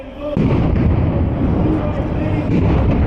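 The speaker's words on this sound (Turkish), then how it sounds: "Binanın önünde çok ciddi patlamalar oldu." Loud, continuous rumbling blasts and crackling bursts, explosions going off in front of a building in Albania, with a voice faintly mixed in.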